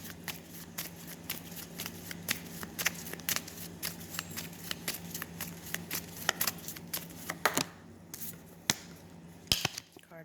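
Tarot cards are shuffled in a steady run of crisp riffling snaps and flicks, close and clear, with a sharper slap near the end as a card drops out.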